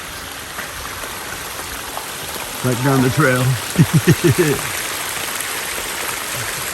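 Full river rushing along an Appalachian Trail path the morning after a night of heavy rain, a steady broadband wash of water throughout, with a brief stretch of nearby talking partway through.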